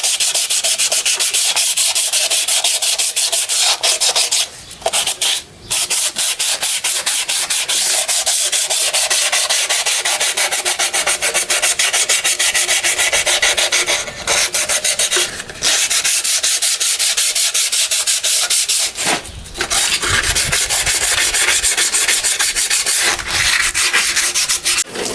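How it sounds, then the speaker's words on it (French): Coarse-grit abrasive sanding cast iron on a Farmall Cub tractor, a loud, steady rasping grind running nearly nonstop with a few brief pauses, close and without speech. "ici la matière est de la fonte, donc on peut faire ça avec un grain un peu fort, ça risque pas d'abîmer"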